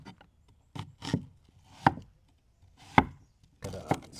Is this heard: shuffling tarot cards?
no